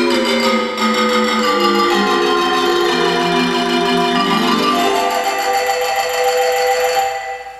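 Marimba stop on a rebuilt theater organ plays a continuous run of bright, rapidly repeated mallet notes in shifting chords, loud and close, with no voices.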